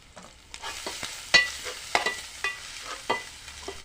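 Cumin, green chillies, onion and ginger garlic frying in oil for a radish fry, a soft continuous sizzle broken by a series of sharp stirring scrapes and clacks at uneven intervals.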